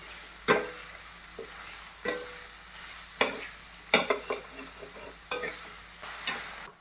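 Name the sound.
onions frying in pan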